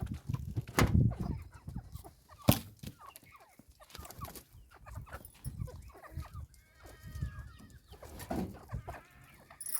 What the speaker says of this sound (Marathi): कोंबड्या सोडावा त्यांना खायला टाकावा